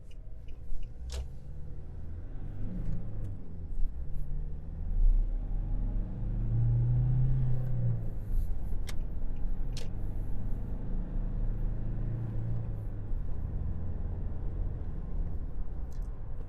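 A Nissan Navara pickup with a 2.5 litre engine runs under acceleration, giving a steady low rumble that swells around the middle and holds through the clip with no voices.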